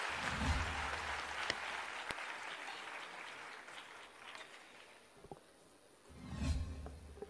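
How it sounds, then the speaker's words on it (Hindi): A state-level award ceremony for World Disability Day greets Chief Minister Yogi Adityanath with sustained applause from a large hall, faint and distant, dying down midway and swelling briefly again near the end. "जोरदार तालियों के साथ स्वागत।"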